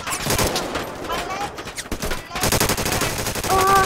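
Dense, rapid gunfire crackles nonstop in a war video game roleplay, near and loud bursts overlapping in busy volleys.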